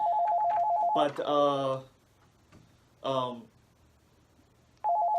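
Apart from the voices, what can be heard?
telephone ringtone ringing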